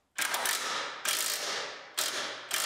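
A ratchet bolts horns onto a Mustang, giving three long rasping strokes of rapid pawl clicks, close and fairly loud, each restarting with a sharp onset.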